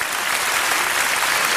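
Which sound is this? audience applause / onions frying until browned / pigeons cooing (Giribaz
audience applause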